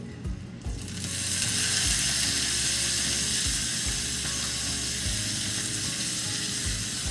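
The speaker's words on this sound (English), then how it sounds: "Let it sizzle" Loud, steady sizzling and crackling of steak frying in butter in a hot pan, continuous throughout with occasional low scraping bumps, close by and without voices.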